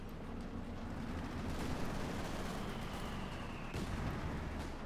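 Muffled mortar and tank fire from a Company of Heroes 2 battle, a dense rumbling wash of distant explosions and gunfire that stays loud and steady with a few sharper thuds.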